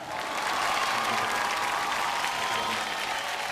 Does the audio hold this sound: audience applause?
yes